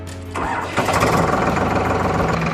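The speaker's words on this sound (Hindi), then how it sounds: "उसके बाद आप ट्रैक्टर को चालू कीजिए।" A tractor engine cranks briefly, then catches and settles into a loud, steady idling rumble.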